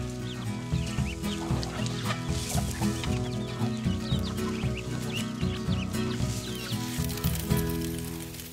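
Collonca hens, the blue-egg breed, cluck and cackle steadily in a farmyard flock, a dense, close chorus of overlapping calls with no talk.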